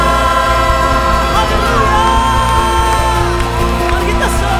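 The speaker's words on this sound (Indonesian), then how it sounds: "Mari kita sorakan namanya" A church congregation cheers and whoops together over loud, sustained worship music, a steady crowd roar that fills the whole stretch.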